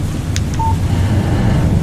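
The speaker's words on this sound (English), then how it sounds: "Text message from Barry." A short electronic phone beep chimes once as a text message arrives in Alan Wake Remastered, a brief clear tone over a loud steady rumble of ambient noise.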